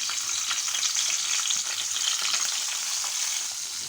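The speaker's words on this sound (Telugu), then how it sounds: "ఇప్పుడు ఇవన్నీ చక్కగా ఫ్రై చేస్తున్నాను" Pieces of salted fish frying in oil in a pan for a cucumber curry, a steady close hiss and crackle of sizzling with no talk.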